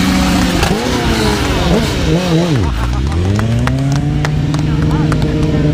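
A BMW S1000RR sport bike during a stunt show revs loudly and continuously nearby, its engine pitch dipping and climbing as the rider works the throttle and clutch.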